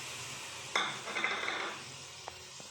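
Cut vegetables go into hot oil in a pan for veg gravy with a sudden loud sizzle, which fades as they are stirred, followed by a couple of light clinks from a utensil.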